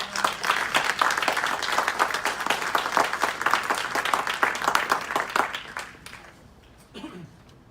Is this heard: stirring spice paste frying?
no